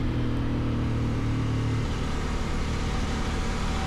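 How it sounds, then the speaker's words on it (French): A CF Moto 800 MT motorcycle engine runs with a loud, continuous drone. A steady low tone holds for about two seconds and then gives way to a rougher, broadband roar as the bike keeps moving. "le moteur sonne bien"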